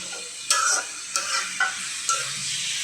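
Vegetable curry is stir-fried with spices in a pan, a steady sizzle punctuated by about five regular scraping strokes of a spoon against the metal, close and clear, with no voices.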